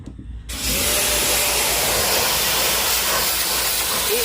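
A pressure washer sprays cleaning solution onto a house, starting abruptly after a brief quiet moment and then holding a loud, constant hiss up close, with no talk.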